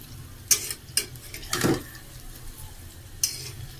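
Lentil fritters fry gently in oil in a pan over lowered gas, a faint close sizzle punctuated by a few sharp clinks and scrapes as they are turned.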